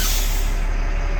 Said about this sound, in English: And set the brake.